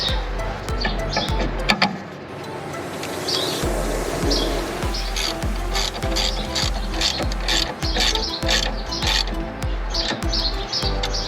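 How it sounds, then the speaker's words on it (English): A ratchet with a 14mm socket tightens a rear suspension sway bar link, clicking in a rapid, steady run of close, loud pawl ticks that continues throughout, with faint bird chirps in the background. "Reinstall your sway bar link with the VISE grip and the 14mm socket."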